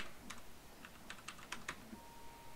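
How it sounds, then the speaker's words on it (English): Fingers typing on a computer keyboard while entering network settings, a quiet scatter of a dozen or so light key clicks in uneven bursts, alone with no talk. "I'm inputting my SSID"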